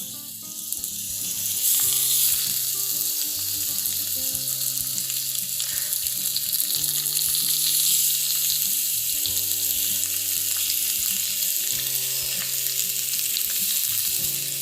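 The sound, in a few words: shrimp frying in oil in a pan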